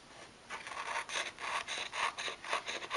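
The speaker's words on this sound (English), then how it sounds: "I want to go ahead and cut a few strips of this" Thin strips of wreath material being cut, a close rough rubbing and rasping with a series of short scraping strokes over a steady background hiss.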